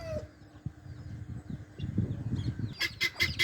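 Hens with their chicks in a poultry yard, soft low clucking at first, then a few sharper, louder calls in quick succession near the end.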